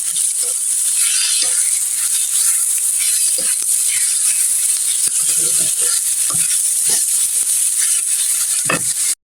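Onions frying with salt in a pan give a loud continuous hiss and sizzle with intermittent scraping stir strokes, and no voice over it.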